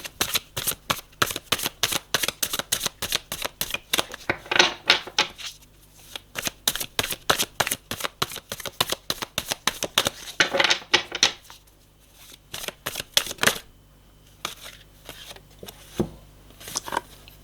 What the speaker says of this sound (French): Bon, allez, on va recouvrir les cartes.